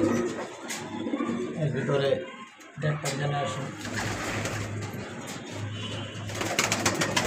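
Pigeons in a loft give repeated low, soft coos close by, heard beneath someone talking.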